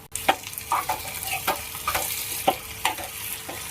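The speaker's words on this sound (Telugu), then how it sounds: "ఇప్పుడు ఇందులో టమాటాలు వేసుకుంటున్నా." Tomatoes frying in a pan for an onion and egg curry, stirred with a utensil that scrapes and taps repeatedly over a constant sizzle.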